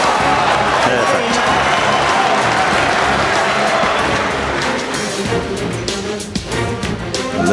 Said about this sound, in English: Listen to the roar.